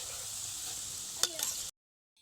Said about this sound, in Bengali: মিডিয়াম আঁচে পকোড়াগুলোকে ভেজে নিতে হবে